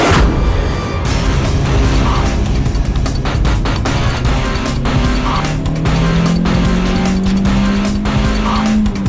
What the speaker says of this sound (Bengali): এটা ভিন্টেজ কার, একটু স্লোই চলে